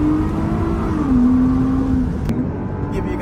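A Lexus IS350 with a loud exhaust drones at night, a steady deep engine roar with a falling tone as it downshifts, close and dominant throughout.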